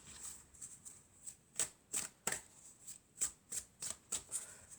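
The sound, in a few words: shuffling oracle cards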